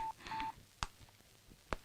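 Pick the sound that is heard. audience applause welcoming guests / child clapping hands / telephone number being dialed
telephone number being dialed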